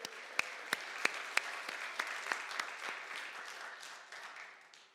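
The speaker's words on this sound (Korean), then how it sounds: "하나님께 영광의 박수를 올려드립니다" A church congregation claps during a Korean worship service, scattered sharp individual claps at first merging into a soft, steady ripple of applause that fades out, heard at a distance and fairly quiet.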